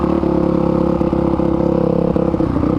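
A Suzuki DRZ462 motorcycle fitted with an MRD exhaust runs loud and close, a steady throaty engine drone with a few brief blips in revs, no voices over it.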